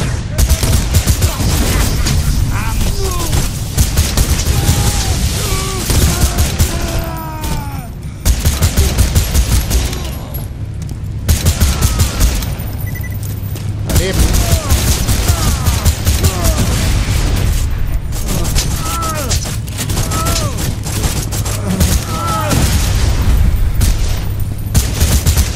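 Heavy, continuous automatic weapon fire in Borderlands 2, loud and close, rattling almost nonstop with brief gaps, with ricochet-like whines scattered through the bursts.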